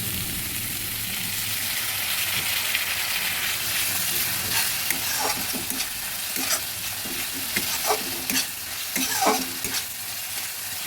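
Spices frying in oil in a pan for a spicy pomfret fish curry, a steady close hiss and sizzle with occasional scraping stirs of a spoon against the pan.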